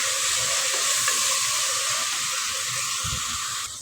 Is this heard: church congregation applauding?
no